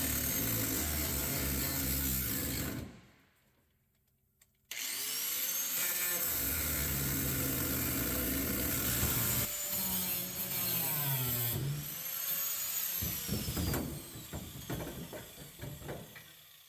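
Cutting a section out of a truck floor during a blown 7.3 diesel build, a steady loud rasping saw-like grind with whining tones, stopping briefly for a second near the start, then resuming and tapering into choppier strokes.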